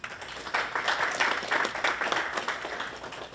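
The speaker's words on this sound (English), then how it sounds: "So let's give them both a round of applause." An audience at a public safety symposium workshop claps in warm, steady applause that fills the room for a few seconds, with many hands blending into a continuous patter.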